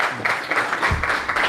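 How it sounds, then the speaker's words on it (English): A round of applause from the audience at a hackathon demo event, irregular bursts of clapping in a room with a few scattered claps standing out, loud and fairly close. "One more round of applause, please."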